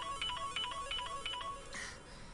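A mobile phone ringtone chirps in a repeating pattern of short electronic tones, fairly faint, with a quiet room hum underneath and no talking.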